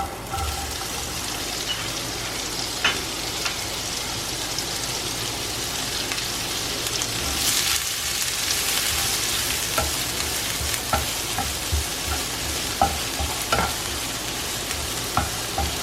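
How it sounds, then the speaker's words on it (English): Onions sizzle and fry steadily in hot vegetable oil in a pan, a continuous crackling hiss with occasional stirring clicks and scrapes, close and fairly loud with no talking. "The pan is already hot, so I'll add the onions now."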